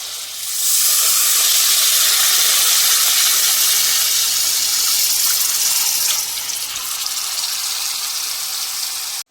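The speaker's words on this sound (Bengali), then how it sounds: "মশলাটা আমার কষানো হয়ে গেছে, এখন পরিমাণ মতো জল দিয়ে দেব।" Water pours into a cooking pan of fried spice paste for a Bengali doi katla fish curry, bursting into a loud, steady hissing gush of steam that slightly eases toward the end, with no talking.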